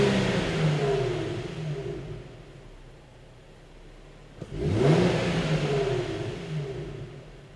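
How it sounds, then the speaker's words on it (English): A Nissan or Infiniti engine drops from a steady idle, then revs sharply once and settles into a raised, rumbling run that wavers and eases back, heard close with no talking. "we're going to rev the engine up a few times and make sure that the idle returns back to normal"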